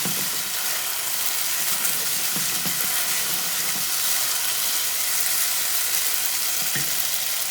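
Risotto sizzles loudly and continuously in a pan as added wine boils off, with a dense hiss and a few soft stirring knocks close by.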